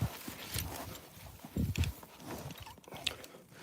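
Hooves of a horse walking nearby, a few uneven thuds and clops over quiet outdoor background, with a faint rattle here and there.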